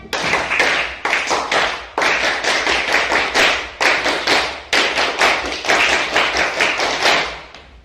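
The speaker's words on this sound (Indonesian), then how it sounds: "coba teman-teman kita sepakat beri tepuk tangan apa buat mereka ini supaya mereka semangat" A school class doing the rhythmic 'tepuk super' cheer, loud patterned clapping in repeated groups of quick claps separated by short pauses, several bursts across eight seconds.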